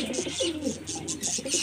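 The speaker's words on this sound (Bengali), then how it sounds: "এটা মাদি পায়রাটা" A female pigeon at a pigeon flyer's loft coos close by in soft repeated low warbles, with faint chirps from other birds in the background.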